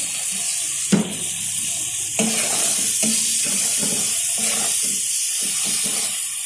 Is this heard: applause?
no